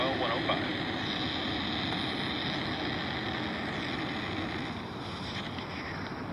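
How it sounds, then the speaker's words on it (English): A SpaceX Falcon 9 rocket lifting off on the NROL-105 mission, a continuous loud broadband roar with rumbling and wind-like buffeting that holds steady and eases slightly toward the end. "And liftoff of Falcon 9."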